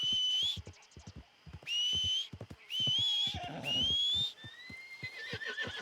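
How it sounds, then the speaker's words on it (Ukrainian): Horse whinnies loudly in Red Dead Redemption 2, several long ringing neighs in a row, close and clear, separated by quieter stretches with hoof clops. "Біжи давай до мене, кобилчик."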